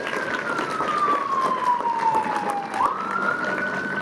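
An ambulance siren sweeps past outdoors at a library reopening ceremony, a loud sustained wail gliding slowly down in pitch and then jumping back up as it passes, over steady traffic rumble.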